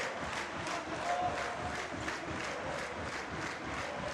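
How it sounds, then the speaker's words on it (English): Rhythmic clapping from a crowd in a school volleyball arena at the New Zealand secondary schools championship finals, evenly spaced claps repeating about three times a second over a soft murmur of voices. "We've got a clap going on in the arena"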